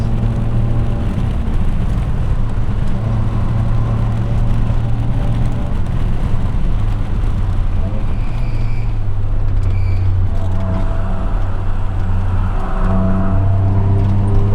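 Cars at the Nürburgring, Porsches among them, roar past nearby in a steady loud engine drone, heard from inside a car with the window open.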